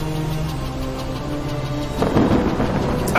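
Thunderstorm at sea: a continuous rumbling roar of wind and weather with low droning tones, swelling into a louder crackling burst of thunder in the second half, loud and close with no voices.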